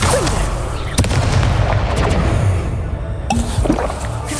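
Incendio fire spell cast in a Harry Potter video game, a loud booming burst with crackling blasts and thuds layered over a dense, continuous roar of game action.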